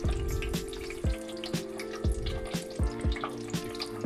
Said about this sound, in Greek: να τηγανίσουμε τα γεμιστά πλέον κολοκυθάκια μας σε καυτό λάδι